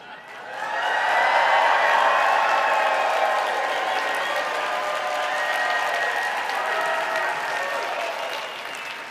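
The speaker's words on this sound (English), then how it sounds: "Would you guys do me a favor and just act like you're cheering?" A business talk audience cheers and applauds on request, a dense, loud wash of clapping and whoops that swells within the first second and holds steady for about eight seconds.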